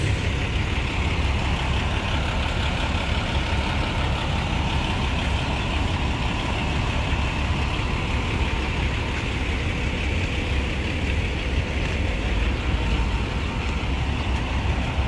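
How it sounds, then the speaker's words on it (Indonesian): A Po Santoso intercity bus on the Poris–Jogja via Magelang route idles before its morning departure, its engine a loud, steady low rumble that continues unbroken with no talking. "Pak Santoso berangkat di bus."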